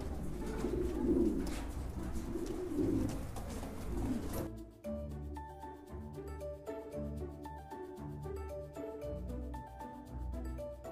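King pigeons give a few soft, low coos against a rushing background over the first few seconds, after which music takes over.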